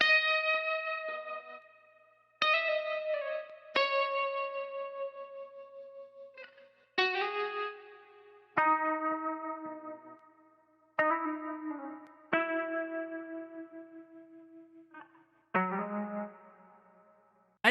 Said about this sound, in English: last element of this sample though is this guitar